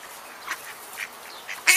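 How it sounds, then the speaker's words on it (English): Ducks and ducklings gather to be fed bread, giving several short quacks spaced through the moment and ending in one louder, nearer call. "Look at these cute little ducks."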